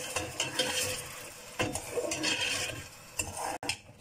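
Milk being stirred into sugar in a cooking pot to dissolve it for a sweet rice dish, a steady scraping swirl of spoon against metal with small clinks, moderately close and heard alone.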